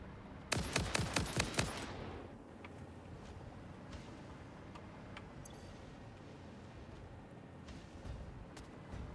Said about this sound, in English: Oh, look at that guy up there trying to shoot me.